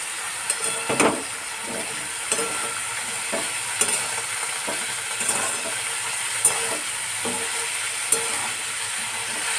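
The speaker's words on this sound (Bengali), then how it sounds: "ফার্স্টে আলুগুলোকে ভালোভাবে ভেজে নেব হালকা হালকা করে" Long-cut potato slices fry lightly in oil in a pan, with a soft continuous sizzle broken by repeated scraping stirs at irregular intervals, close up and without voices.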